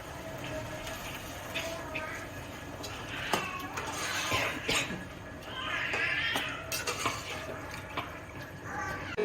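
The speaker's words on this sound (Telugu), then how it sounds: "వాటర్ యాడ్ చేసుకుంటున్నానండి గ్రేవీ కోసం." Water from a small tea glass is poured into a pan of gongura raw prawn curry to make gravy, a soft splashing pour mixed with faint clatter while a person talks over it.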